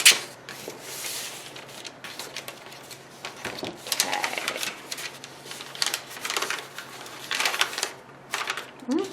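Newspaper being trimmed for upcycled gift wrap makes a series of crisp rustles and snips in irregular bursts, close and fairly quiet.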